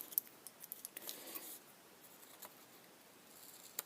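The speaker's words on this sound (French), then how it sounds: "je vais faire ça au ciseau là" Scissors snip through paper for a scrapbooking mini envelope, a run of quiet close cuts and rustles in otherwise near silence.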